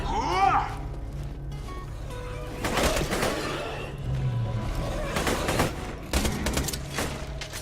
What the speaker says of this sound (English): I'll try to just burst rifle it then.